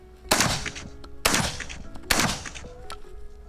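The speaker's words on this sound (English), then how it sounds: "Obviously it's a 12 gauge, so 12 gauges are known to have a little thump to it." A Black Aces Tactical Pro S4 12-gauge shotgun fires three loud, sharp blasts about a second apart, each trailed by a short echoing decay.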